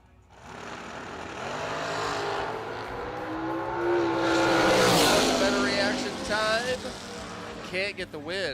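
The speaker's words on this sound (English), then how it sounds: "The Walston Motorsports car over here for Christian" A race car roars past, its engine rising to a loud peak and fading away, while a commentator talks excitedly over it.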